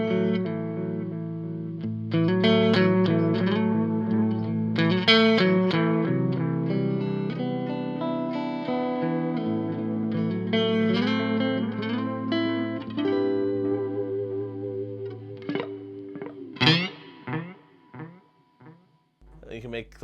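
Electric guitar played through a Boss Waza Craft delay pedal set to slow repeats, with moderate intensity and echo level; sustained chords and melodic notes trail off into long, ambient echoes, ending in sparse plucked notes that fade out.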